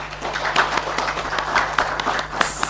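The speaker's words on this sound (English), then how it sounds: "Please give her a round of applause." Scattered applause from a modest conference audience at a stakeholder session, individual claps audible in a loose, uneven rhythm, moderately close, lasting a few seconds.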